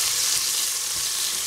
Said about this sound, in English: Cooking broccoli.